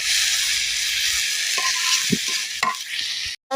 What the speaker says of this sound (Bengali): আস্তে আস্তে জাল দিব আর নাড়া দিয়ে এই সব কিছু ভেজে নিব